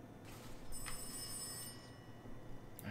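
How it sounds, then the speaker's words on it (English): A telephone rings faintly in the horror video game Rise of Insanity VR, a thin electronic ring bursting twice against a quiet, hissy background with no talking. "I hear the phone."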